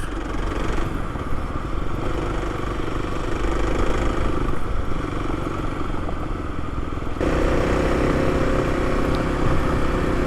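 A new Kawasaki KLX300 dirt bike rides over gravel and sandy desert trails in Joshua Tree, its engine a loud, steady, close drone with rattling clatter and brief shifts in pitch.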